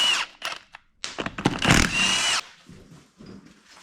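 A power impact tool spins off the rear wheels of a GMC Jimmy being lifted, sounding in short loud whirring and rattling bursts up close, followed by quieter clanks.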